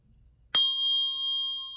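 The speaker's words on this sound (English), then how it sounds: "And I am going to ring the bell" A meditation bell struck once, ringing bright and clear, then sustaining a long steady tone that barely fades, close and alone after a moment of near silence.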